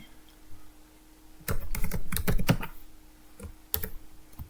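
Code is typed on a computer keyboard in bursts of rapid, close clicking keystrokes, with short pauses in between and no talking.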